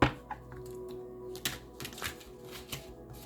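A deck of oracle cards being shuffled by hand, soft close papery riffles and taps in short uneven bursts against a quiet room.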